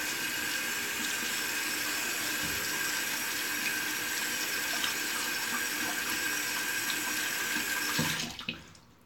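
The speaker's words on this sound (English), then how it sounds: "rinse my hands" Water runs steadily from a tap into a sink for rinsing hands, a close, continuous splashing hiss that stops abruptly near the end.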